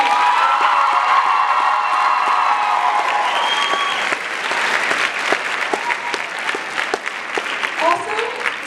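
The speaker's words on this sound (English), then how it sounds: "can we have a round of applause for all of this talent we've seen tonight" An audience at a beauty pageant gives a loud, sustained round of applause with cheering, the crowd clapping steadily throughout while a voice carries over it.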